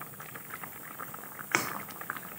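Banana flower boils in a pot, giving off soft, quiet bubbling and popping, with a brief louder clink or splash partway through and no voices.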